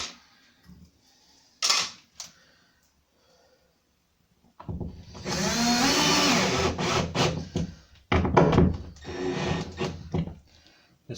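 A pipe is cut during a wardrobe build, giving short bursts of rasping, scraping noise with pauses and scattered knocks between them, close by and moderately loud.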